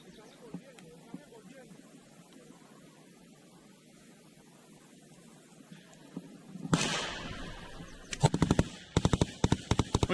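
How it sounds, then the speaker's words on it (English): Gunfire in a war zone in Ukraine: faint scattered distant shots over a low hum, then a sudden loud burst, followed by rapid clusters of sharp automatic shots close by. "we hear gunfire going on all around them"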